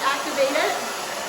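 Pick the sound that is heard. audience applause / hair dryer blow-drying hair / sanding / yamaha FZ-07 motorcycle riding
hair dryer blow-drying hair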